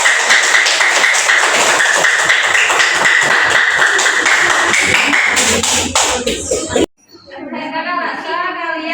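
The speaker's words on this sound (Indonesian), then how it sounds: "Tepuk tangan untuk kelompok 3." A group of children applauds for the third group in a classroom, a dense burst of loud clapping mixed with chatter that cuts off abruptly near the end, followed by a short spoken voice.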